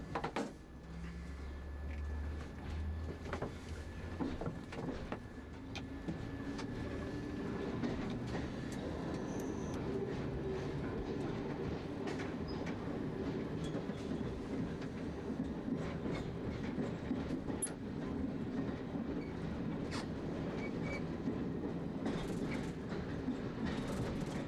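A London Underground Metropolitan line A Stock train runs near Baker Street, heard from the cab as a steady low rumble with rhythmic wheel clatter over the rails, continuous and close throughout with no talk.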